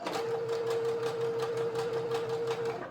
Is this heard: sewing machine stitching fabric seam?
yes